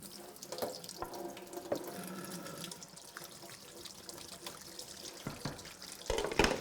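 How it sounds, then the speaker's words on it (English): Hands being washed under a running kitchen tap, a continuous close stream of water splashing into the sink that changes as the hands move and swells louder near the end, with no talking. "I got to wash my hands."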